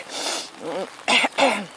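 Two short, harsh coughs close to the mic, coming one after another after some breathy throat noise.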